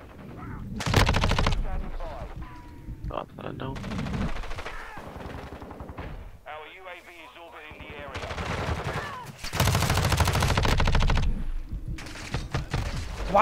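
Gunfire in the Modern Warfare 2 beta video game, with loud bursts of automatic fire and single shots broken by short lulls. Players talk between and over the volleys.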